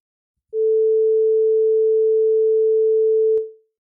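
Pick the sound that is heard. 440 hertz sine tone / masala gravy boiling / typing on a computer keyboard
440 hertz sine tone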